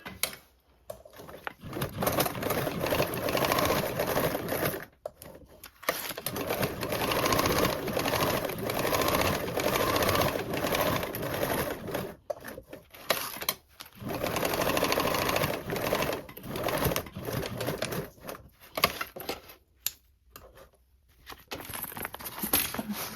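A sewing machine bastes a toiletry bag seam at 1/8 inch, running in close, steady, whirring bursts separated by short pauses as the fabric is repositioned.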